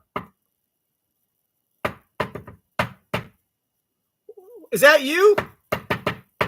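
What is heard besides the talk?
knocking on a door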